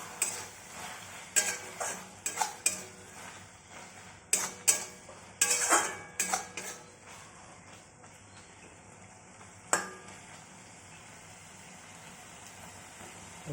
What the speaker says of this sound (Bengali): নামানোর আগে অল্প করে মিশিয়ে নেবো কাঁচা ধনিয়া